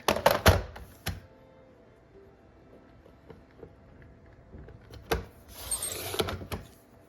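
Paper for a scrapbook page is trimmed at close range, with sharp cutting snaps and thunks at the start and again near the end, and quieter handling rustle in between.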